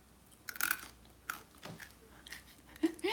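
Crunchy furikake bits are chewed close to the microphone, giving a few sharp, irregular crunches spaced by quieter pauses.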